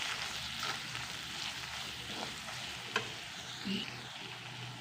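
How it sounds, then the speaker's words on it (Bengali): A ginger-garlic-cumin paste with turmeric and chili powder sautéing in a pan for an egg curry, giving a steady, moderate frying hiss with soft stirring scrapes throughout and one sharp clink near the end. "তো ভালো করে কষে দিচ্ছি।"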